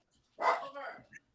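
A beagle lets out a single close, throaty bark that trails into a quick high yip, alone against a quiet indoor background.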